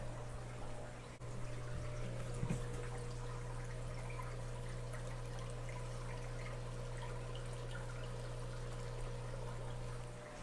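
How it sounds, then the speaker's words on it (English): Water pours steadily to fill a saltwater fish tank, a soft continuous trickling stream over a low steady hum, faint and unbroken throughout. "Just a little bit more water."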